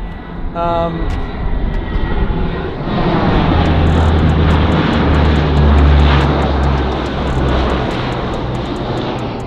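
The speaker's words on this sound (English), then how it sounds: "Those planes non-stop around here." Propeller airplanes fly low overhead in a residential area, a loud engine drone swelling and fading over several seconds, with a person talking briefly near the start.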